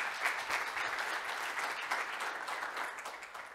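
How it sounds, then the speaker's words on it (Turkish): Applause from the audience at a science award ceremony honouring young scientists, dense and steady clapping lasting several seconds with no voices over it, fading slightly toward the end. "Hep beraber bir alkış alabilir miyiz onlara?"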